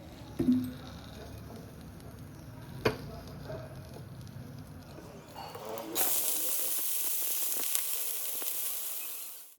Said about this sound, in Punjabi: ਜਿਹੜੇ ਸਾਡੇ ਕਰੇਲੇ ਆ ਉਹਨਾਂ ਨੂੰ ਤੜਕਾ ਲੱਗ ਚੁੱਕਾ ਵਾ